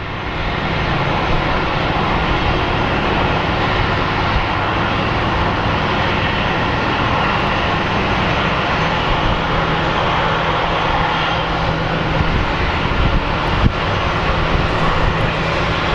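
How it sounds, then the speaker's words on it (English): A jet airliner lands at Phoenix Sky Harbor International Airport, its engine roar a loud, steady broadband rush that holds without a break. "That was a great landing, wasn't it"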